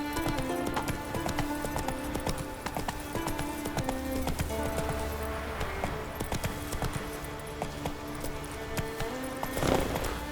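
Roach, a horse in The Witcher 3, gallops with steady clip-clop hoofbeats over a busy game soundscape of music and ambience, with a brief whinny and faint voices.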